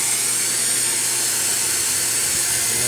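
A pet blower drying a dog after its bath gives a steady, loud whooshing hiss of air, continuous and unbroken, with no voices over it.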